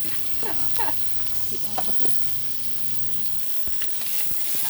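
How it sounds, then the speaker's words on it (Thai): Pork with holy basil and bamboo shoots stir-frying in a hot pan, a continuous sizzle broken by repeated scraping and clanking of a spatula close by, with no speech. "จะผัดกะเพราใส่หน่อไม้แล้วก็ใส่หมูค่ะ"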